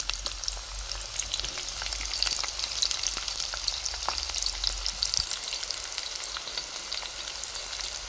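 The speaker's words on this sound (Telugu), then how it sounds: "ఆయిల్ అయితే వీటైంది ఉల్లిపాయ అయితే వేసేస్తున్నాం" Onions sizzling in hot oil for mutton curry, a dense continuous crackling fry with scattered pops, steady and close throughout with no voices.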